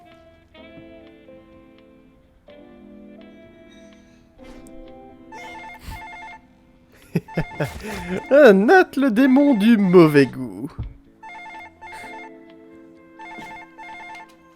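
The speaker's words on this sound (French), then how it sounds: "il doit répondre tout de suite au téléphone" A telephone rings indoors in an office, with repeated electronic ring bursts that are clear and fairly near. A voice speaks between the rings, and a louder warbling passage rises briefly in the middle.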